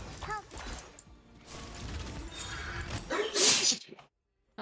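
A single sharp sneeze bursts out near the end, loud and close, following a stretch of people chatting during a livestream.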